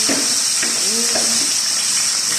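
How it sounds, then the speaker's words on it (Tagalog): Fish fries in hot oil: steady, bright sizzling fills the clip, constant hiss with a few soft pops and faint clinks beneath it. "magluto tayo ng piniritong isda"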